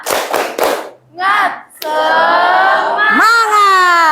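Three quick sharp claps from a class open a spirit cheer, followed by a brief pause and then a loud, sustained group shout from children's voices filling the rest.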